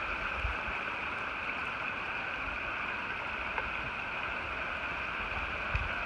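A woodland creek along the Appalachian Trail near a pond lean-to flows in a steady, even wash of water, continuous and fairly close, with no voices.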